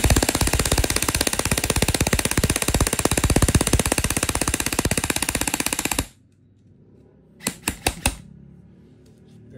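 A Krytac Trident MKII CRB airsoft rifle fires a long, rapid full-auto burst of sharp, loud clicks for about six seconds, followed by a short pause and then four quick single shots.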